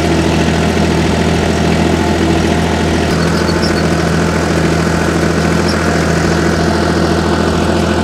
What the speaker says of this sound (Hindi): अब आरपीएम ड्रॉप पे देखते हैं ट्रैक्टर का कितना यहाँ पे आता है।